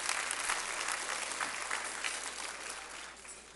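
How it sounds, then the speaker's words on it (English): A sparse conference audience at a keynote, with many tables empty, gives a round of applause: even, moderately quiet clapping from a small crowd that tapers slightly toward the end. "give yourself a round of applause for being a resilient crew"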